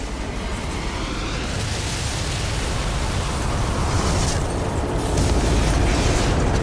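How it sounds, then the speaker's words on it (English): A building explodes in the video game Starfield: Shattered Space, heard as a sustained, dense roaring rumble that fills the whole range, steady and loud, swelling slightly toward the end with no talking. "You escape the building as it explodes."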